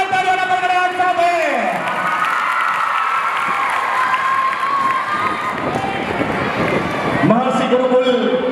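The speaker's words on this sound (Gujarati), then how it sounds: "જોરદાર તાળીઓના ગણગણાટ સાથે" Loud crowd applause and cheering at a school annual festival, a dense, sustained wash of clapping and shouts with some voices mixed in.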